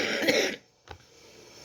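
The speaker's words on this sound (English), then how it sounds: "Excuse me, I'm still coughing." A person clears their throat with a short, close rasp, followed after a brief pause by a single quiet cough.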